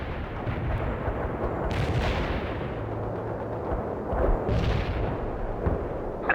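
Artillery fire in the Soviet campaign of World in Conflict: a steady rumble of booming shells and battle noise, with heavier bursts around the start, middle and end, fairly loud throughout with no talk.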